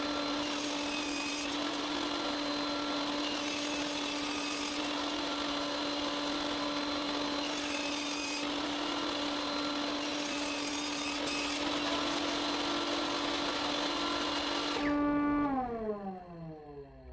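A power saw cuts small wooden pieces for a chessboard with a steady, loud, droning whine. It runs continuously for about fifteen seconds, then the blade spins down to a stop.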